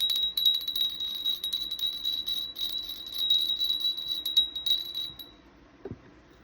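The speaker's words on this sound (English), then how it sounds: "I'm just going to ring the bell so we can bring in spiritual energy" A small bell rings with a bright, sustained high tone, struck repeatedly for several seconds during a spiritual self-healing session, then stops and falls quiet.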